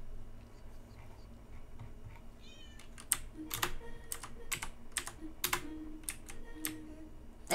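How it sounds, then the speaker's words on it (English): A cat meow sound effect plays on a livestream, a short meow heard over rapid, close computer keyboard typing that continues in uneven bursts, with no one talking. "whoever played the cat sound"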